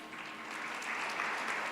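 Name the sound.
audience applause for panelists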